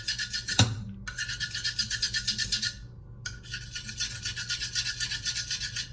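A whetstone being flattened on a fresh DMT 325 diamond plate gives a coarse, rhythmic rasping scrape in steady back-and-forth strokes, loud and close. Two brief pauses break the stroking, which then resumes.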